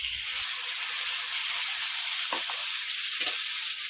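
Tomato pieces frying with onion and green chillies in a pan for a small-fish curry, a broad steady hiss throughout with a couple of brief stirring scrapes, no talk.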